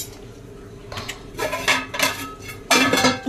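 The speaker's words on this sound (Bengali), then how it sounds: "এই যে তুলে নিয়েছি শাশুড়িমায়ের জন্য মাটন" Mutton curry being spooned into a bowl: a metal spoon scrapes and clinks against a pot and dish in several short bursts, close up, with no talk.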